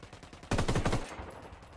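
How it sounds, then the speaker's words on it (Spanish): Rapid automatic gunfire from Ghost Recon Wildlands, a loud burst of about ten closely spaced shots lasting half a second, followed by a quieter ambient tail with no voices. "Disparando al enemigo."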